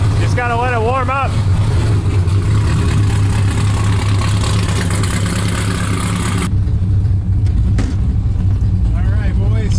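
An LS3-swapped Miata running on 72% ethanol idles while it warms up, a loud steady low engine rumble throughout with someone talking over it.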